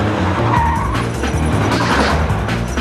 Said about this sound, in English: The BMW burns up the slalom course at nearly 67 miles per hour.